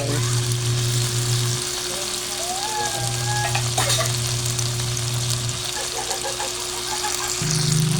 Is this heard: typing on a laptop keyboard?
no